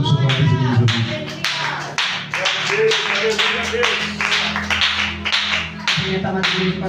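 Congregation in a church claps along during worship, sharp rhythmic handclaps falling in quick bursts over a sustained low musical drone and sung or spoken voices, fairly close and loud.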